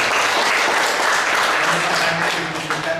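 Loud, continuous applause from an audience at a gathering, steady and dense throughout the short stretch, with a faint voice surfacing near the end.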